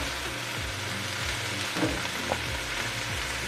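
Spinach cooking in a hot pan for stuffed eggs, a continuous close sizzle broken by several scraping stirs of the leaves, with no voices.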